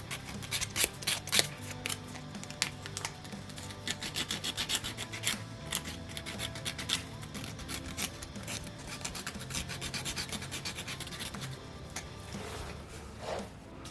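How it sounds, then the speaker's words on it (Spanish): A piece from a Stegosaurus 3D model kit is sanded by hand, giving a continuous close, gritty rasping rub with quick back-and-forth strokes. "Si lo ves necesario puedes lijar un poco."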